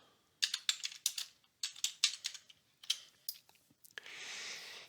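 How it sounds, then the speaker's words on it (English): An artist's name is typed on a computer keyboard: quick bursts of close, crisp key clicks with short pauses, ending in a softer steady rustle. "So I'm going to type in another artist."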